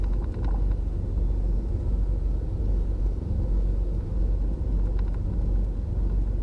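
A Cessna 310 twin-engine aircraft taxis toward the runway threshold, its engines giving a steady, loud, low rumble throughout with no pauses and no talking.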